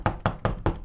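Four quick, firm knocks on a door, evenly spaced and close, ringing out alone in a single short burst.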